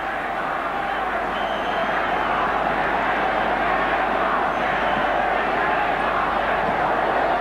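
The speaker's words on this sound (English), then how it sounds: "The crowd chanting for another try." Rugby league crowd in a 1991 Kiwis versus Kangaroos test match, a steady dense roar of massed voices chanting for another try, continuous and loud throughout with a broad wash of noise.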